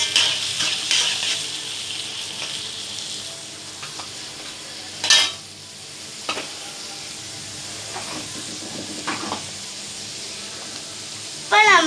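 Onions fry in a pan heated with fenugreek seeds for a fish gravy, a soft continuous sizzle with a few sharp spoon scrapes and clinks scattered through.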